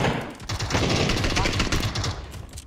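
Rapid automatic gunfire from a PUBG match, dense bursts of shots hammering almost continuously for a few seconds, loud and close, with excited voices talking over the shooting.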